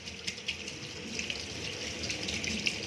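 Omena fish being washed under running water in a sieve, giving a steady, faint trickle and splash with small irregular spatters throughout.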